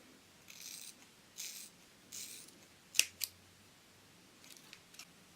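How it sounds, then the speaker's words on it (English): Thinning scissors snip the very tips of long layered hair, giving a handful of soft, quiet rasping cuts with two sharper metallic snips in the middle, all close up against a faint, hushed background. "I'm just going to use these thinning scissors just on the very tips"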